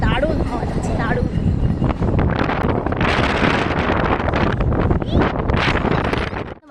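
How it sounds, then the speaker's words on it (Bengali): Strong outdoor wind buffets the microphone in a loud, continuous roar with gusty swells throughout, while voices can be heard faintly underneath. "যা হাওয়া দিচ্ছে এখানে, দারুণ দারুণ হাওয়া দিচ্ছে, দারুণ।"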